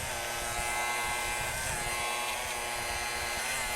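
Electric hair clippers fitted with a quarter-inch guard buzz steadily and up close while cutting a man's hair, a continuous motorized drone with slight shifts in tone as they move through the hair, no talking.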